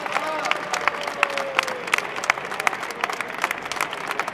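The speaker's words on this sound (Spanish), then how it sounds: "¡Un aplauso para ellos!" A crowd applauds steadily at a workers' strike, many hands clapping at once with scattered cheers, fairly close and continuous throughout.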